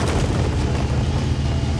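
A deep, continuous rumbling boom with heavy low-end energy, a Leopard 1 tank's high-explosive shell blast in a video game, rolling on without a break.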